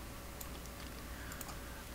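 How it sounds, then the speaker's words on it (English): Brief run of computer keyboard typing during an SSH client login, light scattered keystroke ticks over a steady hum of background noise. "Just type your IP address here and then click open."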